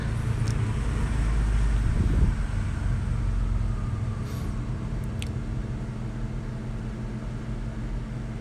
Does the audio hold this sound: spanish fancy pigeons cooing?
no